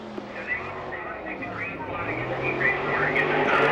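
Sprint cars in an All Star Circuit of Champions race at Selinsgrove, Pennsylvania drone around the track at a distance, engine noise swelling gradually under a commentator's steady talk.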